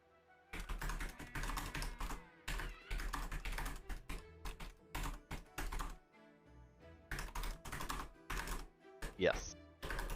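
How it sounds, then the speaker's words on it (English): A computer keyboard clatters in rapid, irregular bursts of keystrokes, close and fairly loud, broken by short pauses, with a faint voice in the background. "Hopefully you can't hear me banging away on the keyboard."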